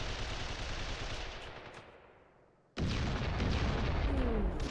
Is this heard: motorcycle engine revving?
no